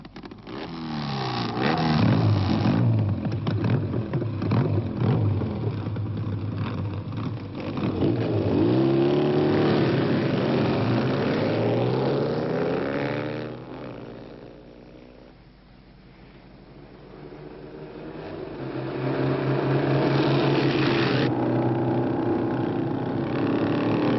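Motorcycle race engines from an animated film sequence, a continuous buzzing, revving drone with rising and falling pitch sweeps, loud and close, dipping briefly in the middle before surging again.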